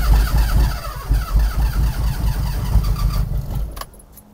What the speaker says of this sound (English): I'm gonna go ahead and start it back up and drain the bad gas out of it